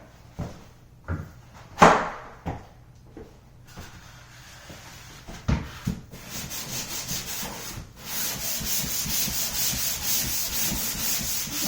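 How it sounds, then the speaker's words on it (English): Dried joint compound on a bathroom vanity wall being hand-sanded, with irregular scratchy rubbing strokes early on that settle into a steady, continuous abrasive scrubbing close to the microphone. "I got to sand it."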